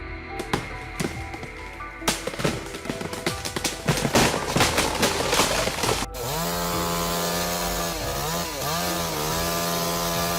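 A chainsaw cuts into a giant red cedar tree, first in choppy bursts with sharp cracks and revs, then settling into a loud, steady high-pitched whine close by.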